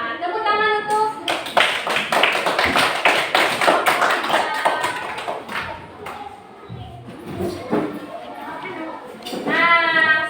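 Schoolchildren in a classroom during a fractions lesson break into brisk clapping, a dense patter of many small hands that rises, thins out and picks up again, with children's voices chattering over it.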